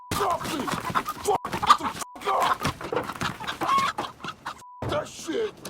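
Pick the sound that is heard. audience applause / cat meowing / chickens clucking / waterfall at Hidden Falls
chickens clucking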